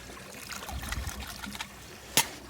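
Water trickles and splashes steadily as a Jandy salt generator cell for a pool is rinsed off after an acid cleaning, ending in a brief louder splash, with no talking.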